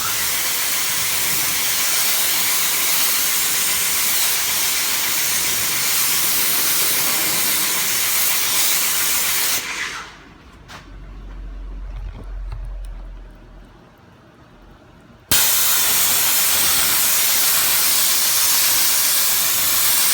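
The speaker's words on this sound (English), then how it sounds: "all we're going to do is spray it on and rinse it off" Sonax Power Clean sprayed on and rinsed off a car surface, a loud steady hiss of spray and water running for most of the stretch, cutting out briefly to a quiet gap before the rinse hiss resumes.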